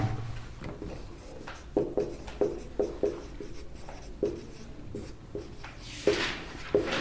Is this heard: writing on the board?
yes